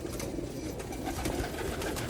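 Chinese breed pigeons coo softly and continuously inside a loft in Oman, several birds overlapping in a low, murmuring chorus close by.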